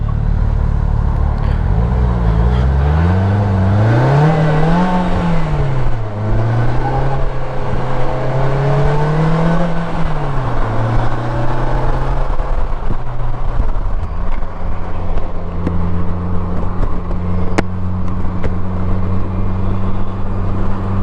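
A 2023 Polaris Slingshot S three-wheeler is driven on the road. Its engine note rises and falls with each rev, loud and continuous, under steady wind rush from the open cockpit.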